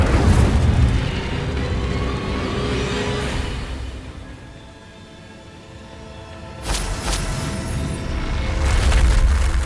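Incendio fire spell cast in the Hogwarts Legacy video game: loud booming, eruptive bursts of game effects open the clip, ease off midway, then surge again in a second blast near the end, with no talking.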